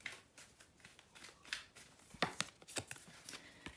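Oracle cards handled and shuffled, a run of soft, quiet papery flicks and taps in irregular bursts, heard alone.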